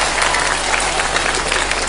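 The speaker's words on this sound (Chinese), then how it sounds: "现在才要掌声鼓励" Loud, dense applause from an audience at a magic show after a multiplying-bottles trick, a continuous wash of clapping with no talking.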